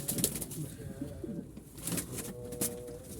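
Pigeons coo softly in low, rolling murmurs, with occasional rustling and flutter nearby; the calls repeat irregularly at moderate volume.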